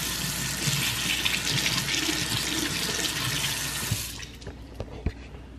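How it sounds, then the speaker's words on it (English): Water runs steadily from a tap into a sink during handwashing, a close, continuous splashing rush that stops near the end, followed by a few faint drips and small bumps. "Let me wash my hands."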